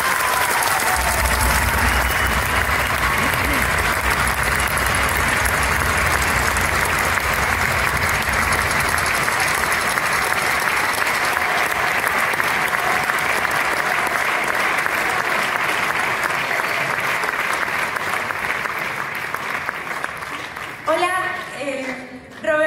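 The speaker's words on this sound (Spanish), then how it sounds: "Un fuerte aplauso para ellos." A large audience at a tribute event gives a long, loud, sustained round of applause. The dense clapping holds steady for about twenty seconds, then thins and trails off near the end.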